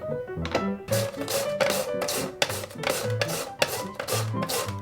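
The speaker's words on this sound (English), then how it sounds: "Shred the Daikon Radish with a slicer." Rhythmic rasping strokes of a daikon radish being shredded on a slicer in a kitchen, about ten quick scraping passes in steady succession, close and fairly quiet.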